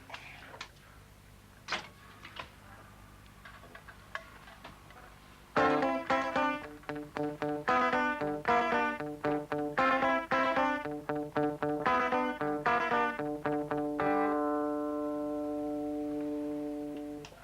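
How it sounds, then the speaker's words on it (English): A few scattered plucked notes, then a steady run of clean electric guitar notes and chords in an even rhythm, ending on a long ringing chord. "You'll just hear me on guitar."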